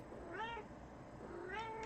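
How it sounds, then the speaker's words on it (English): Two clear meows from a domestic cat, one short and one longer and rising, fairly quiet and close, with no voices over them. "Meow. Good cat."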